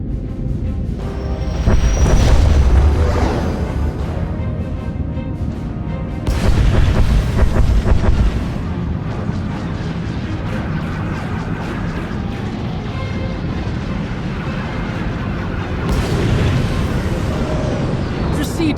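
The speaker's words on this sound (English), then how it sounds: "Proceeding with bombardment, targeting infrastructure and industrial objectives only." Heavy starship bombardment in Star Wars: The Old Republic, deep rolling booms and blasts swelling in several waves under a cinematic soundscape, with a voice speaking over the explosions.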